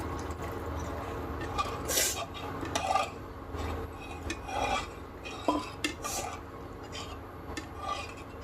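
Water being stirred into an arbi leaf gravy in a pan, heard as a steady scraping and rasping of a spoon against the metal with occasional soft clinks, close and continuous.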